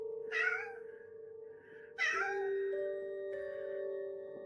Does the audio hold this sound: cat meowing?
yes